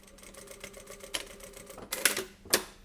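A sewing machine puts a few quick, rhythmic stitches into a face mask made from sterilization wrap, a soft mechanical clatter at close range that ends with a couple of sharper clicks.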